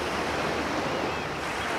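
Surf rolling onto a Wadden Sea beach, a steady broadband wash of breaking waves with a soft wind rush, close and continuous throughout with no voices.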